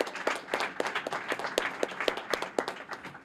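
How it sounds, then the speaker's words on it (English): A short round of applause from a small audience at a union training center ribbon cutting, crisp individual hand claps in a loose, uneven rhythm, moderately close and alone without talk. "can we give him a brief round of applause?"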